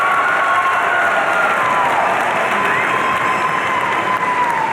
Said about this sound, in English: Let's give a round of applause to the Dollinger Master of Real Estate Development graduates.